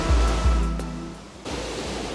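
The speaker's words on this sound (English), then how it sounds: "Here's the rain." A rain squall sweeps across a sailing boat at sea off Indonesia: a broad rushing hiss of rain and wind, opening with a couple of low buffeting thumps, easing briefly, then returning strong.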